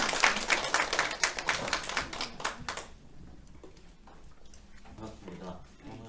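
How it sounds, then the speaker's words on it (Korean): An audience at a lecture on Waldorf education claps to welcome the speaker, a burst of scattered applause lasting about three seconds that fades out before a voice begins talking. "박수와 함께 모시겠습니다."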